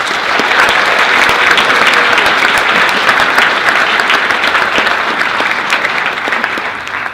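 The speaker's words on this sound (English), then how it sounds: "So let's give him a big round of applause." A conference audience gives a big round of applause during a Model UN opening ceremony keynote, dense and sustained clapping that holds steady before tapering slightly at the end.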